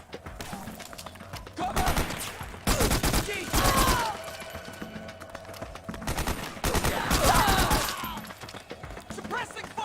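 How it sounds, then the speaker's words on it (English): Bursts of automatic gunfire rattle in clusters during a Metal Gear Solid 4 battle, loud and dense with sustained volleys, mixed with game combat effects and shouted voices. "Suppressing fire!"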